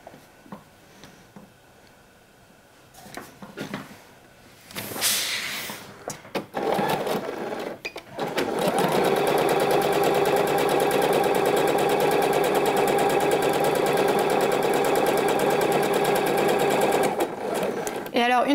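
A sewing machine stitches darts on a BOWIE dress from Apolline Patterns, a loud steady whirring run after some handling noise and someone speaking.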